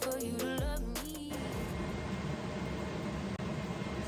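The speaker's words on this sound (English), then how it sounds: "I have the vent going to help with some of the steam that I have going on here." A steady whooshing kitchen exhaust vent fan drone fills the space after a brief burst of music at the start, constant and fairly loud.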